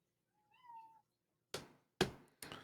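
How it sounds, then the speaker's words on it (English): A domestic cat meows once in a drawn-out, rising and falling call, fairly close and clear, followed by three sharp knocks or thumps. "Was that your cat?"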